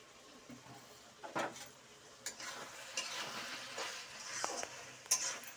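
Mixed vegetables dry-fry in a pan with a dash of mustard oil, giving a soft, steady sizzle broken by occasional scrapes and stirs of a spoon against the pan, quiet and close.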